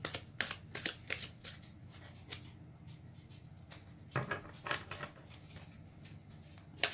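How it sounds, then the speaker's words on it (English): Tarot cards being shuffled in quick riffling bursts, a flurry at the start and another midway, crisp and close with quiet pauses between. "Let's make sure we give it a good shuffle."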